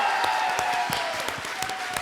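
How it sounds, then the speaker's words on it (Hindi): A studio audience at an Indian comedy show claps in a dense, steady burst of applause, close and unbroken for about two seconds. "बॉम्बई का नया बाप जॉन इब्राहिम के लिए जोरदार तालियां"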